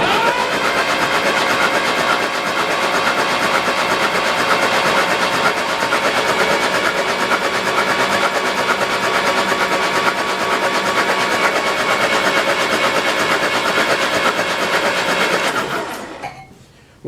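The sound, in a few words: 1953 Jeep CJ3B engine starting and running after 30 years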